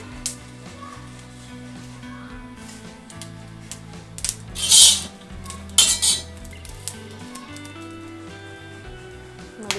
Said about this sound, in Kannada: ಇವಾಗ ಮೆಣಸಿನ್ಕಾಯಿನ ನೀಟಾಗಿ ಹುರ್ಕೊಳಕತ್ತೇನೆ ರೀ ನಾನು.